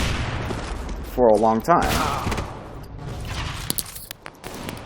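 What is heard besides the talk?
gunfire in video game CS:GO deathmatch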